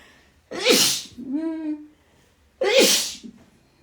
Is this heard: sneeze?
yes